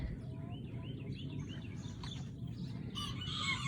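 Chickens cluck and chirp in a busy outdoor setting, with other birds calling around them over a steady low background rumble.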